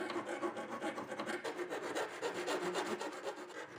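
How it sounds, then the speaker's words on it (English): Metal file rasping back and forth along the edge of a homemade metal broadsword blade to even out rough spots, a steady series of close, gritty strokes with no talking. "you're going to use a file to even it out on each side so it's not so rough"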